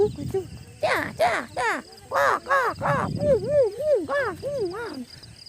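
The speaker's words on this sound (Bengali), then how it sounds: "সকাল সকাল কত সুন্দর পাখির ডাক" Crows caw over and over in the morning in a village, harsh nasal calls in quick uneven bursts, fairly close and clear against a quiet outdoor background.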